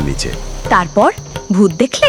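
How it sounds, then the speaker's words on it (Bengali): Crickets chirping in the dark near a banyan tree in a cartoon ghost story, a thin, steady high trill that runs under animated voices speaking. "চারপাশে অন্ধকার, ঝিঝি পোকার ডাক।"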